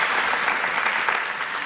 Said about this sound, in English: Another round of applause, please, for Raffi.